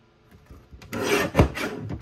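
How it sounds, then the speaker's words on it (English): Craft kit pieces for a Christmas gnome card are filed by hand, a close, quiet rasping that builds from light scratches into a couple of firmer strokes lasting about a second. "Let's get these pieces filed."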